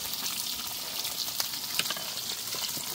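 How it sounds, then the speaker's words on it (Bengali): A large pot of firni, a milk rice pudding made from 8 kg of milk, cooking for a wedding feast as it is stirred; a steady, close, bubbling sizzle with faint scraping strokes, no voices. "এখন রান্না করা হচ্ছে ফিরনি। 8 কেজি দুধের ফিরনি রান্না করা হচ্ছে।"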